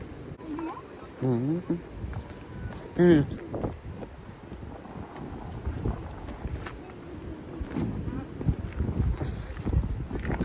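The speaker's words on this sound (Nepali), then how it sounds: "हावा कडा भएको नि त है" Strong wind blows across a rocky seashore in Japan, a rough, gusty rumble buffeting the microphone throughout, while people talk and exclaim over it.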